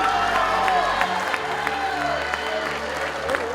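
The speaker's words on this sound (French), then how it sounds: "On applaudit." An audience at a young talent awards ceremony claps steadily and fairly loudly, with a few cheers and voices mixed in.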